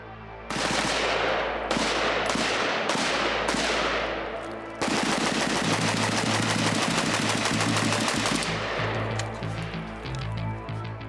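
A Polish FB Radom Beryl rifle, an AK-pattern design, firing from a 5.56 NATO magazine: four loud separate shots or short bursts, then a long rapid string of automatic fire that fades into quiet.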